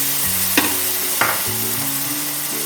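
Ground spice paste sizzles and fries in a pan for a Bengali crab curry, a steady loud hiss with two sharp stirring scrapes and a faint background hum.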